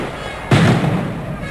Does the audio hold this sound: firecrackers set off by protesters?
yes